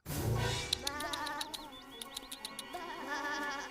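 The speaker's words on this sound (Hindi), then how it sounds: "वो मेरी भेड़ें हैं।" Cartoon sheep bleat in a series of short, wavering cries, fairly close, with a faint insect-like buzz in the background and no speech.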